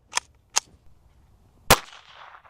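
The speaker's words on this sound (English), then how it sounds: "I'm gonna shoot this sand with higher and higher caliber bullets all the way up to a 50 cal" A .22 caliber round is fired into a block of sand, giving two small snaps and then one louder, close gunshot with a lingering ringing tail. No voices are heard.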